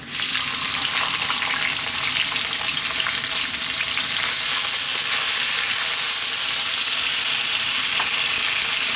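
Chopped onion fries in hot spiced oil for a pumpkin coconut curry, giving a loud, dense, continuous sizzle close up that holds steady for the whole stretch, with no voices.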